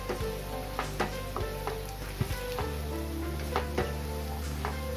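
Spiced arbi (taro) sabzi being mixed in a frying pan: steady sizzling with repeated sharp spatula scrapes and knocks against the pan, close and clear, with no voices.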